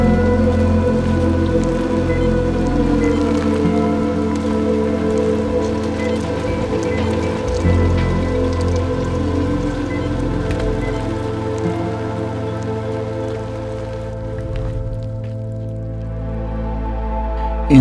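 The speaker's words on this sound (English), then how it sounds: "The constant rain that pours down gives this film a richness of environment not seen in most short films of this genre." Constant heavy rain pours down steadily in a post-apocalyptic short film, a dense unbroken hiss under a low droning music bed that fades near the end.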